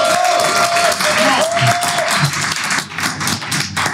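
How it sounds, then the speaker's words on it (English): Clapping and cheering from a small group at a podcast listening session, a busy patter of claps with some whoops and voices mixed in, fading slightly toward the end. "Round of applause, ladies and gentlemen"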